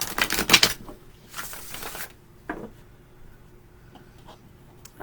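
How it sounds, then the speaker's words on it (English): Oracle cards shuffled by hand: a burst of dense riffling rattles up front, a softer second shuffle, then a few faint card flicks and taps in a quiet room. "Just shuffling."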